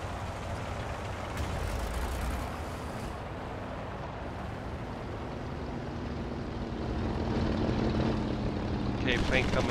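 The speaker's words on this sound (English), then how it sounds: "plane coming in from 265." A propeller plane engine drones in a World War II tank video game, a steady low roar that builds slowly as the aircraft approaches, with other game noise and brief higher bursts near the end.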